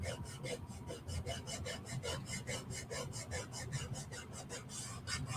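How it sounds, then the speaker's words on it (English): A chalk transfer screen being rubbed onto a wooden 9x9 box frame gives steady, rhythmic scratchy strokes, close and continuous, with a low background hum and no talking. "I'm just going to go along all of the areas of the screen and kind of rub it in"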